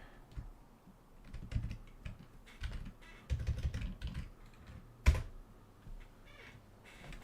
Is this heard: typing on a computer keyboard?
yes